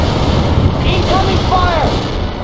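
Heavy artillery fire and explosions in the World in Conflict battle game, a dense continuous rumble of booms under a clipped radio-style voice, loud and close.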